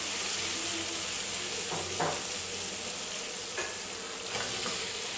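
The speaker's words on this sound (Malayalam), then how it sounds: "ഇനി ഇതിലേക്ക് നമ്മുടെ ചിക്കൻ ചേർത്ത് കൊടുക്കുക." Chicken pieces for chicken 65 fry in a pan with a loud, continuous sizzle and a few brief stirring scrapes, heard up close with no talking.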